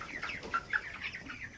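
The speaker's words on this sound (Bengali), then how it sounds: "ফার্মে এসে দেখছি আমার মুরগি খুব সুন্দরই আছে," Chickens on a poultry farm cluck softly in short, irregular bursts, a few nearby calls standing out over a low background murmur of the flock.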